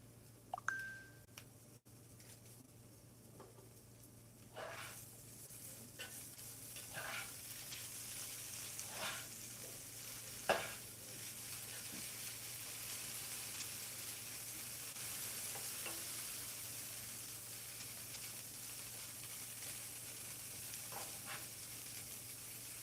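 Shrimp frying in a pan over raised heat, a faint steady sizzle with occasional stirring scrapes and soft pops spread across a quiet stretch.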